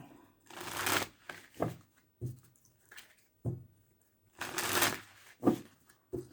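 Tarot cards are shuffled in several quick riffling bursts, close and fairly quiet, with short pauses between each pass.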